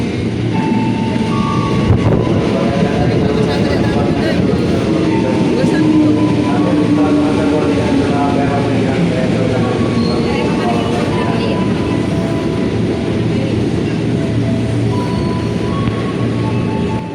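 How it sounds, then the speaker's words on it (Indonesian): A Jabodetabek Commuter Line train pulls into a station platform, its steady low rumble and rolling wheel noise filling the clip, with brighter tonal squeals and hum drifting over a constant crowded background. "Oke, keretanya udah datang, kita siap-siap naik."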